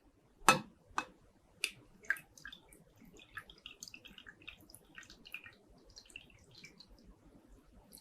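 Water poured carefully into a long funnel, heard as a few distinct drips and splashes early on, then a quieter spread of faint trickling and drops.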